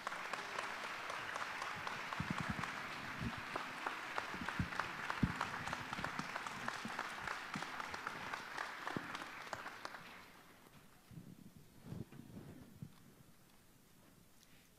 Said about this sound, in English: please join me in giving Dr. Mabel Donaldson a round of applause.